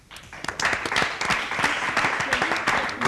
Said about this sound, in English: Let's have a big round of applause for Deepanita.